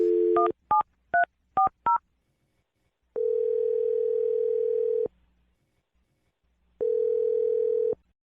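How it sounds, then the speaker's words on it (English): A telephone number is dialed as a quick run of five short touch-tone beeps, followed by two longer steady ringback tones separated by a gap, clear and close with no talking. "I'm going to dial the phone number right now"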